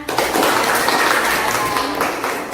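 Schoolchildren applaud in a classroom with a short, dense burst of quick clapping that stays steady at close range for a couple of seconds.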